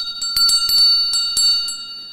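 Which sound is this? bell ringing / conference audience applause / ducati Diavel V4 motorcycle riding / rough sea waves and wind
bell ringing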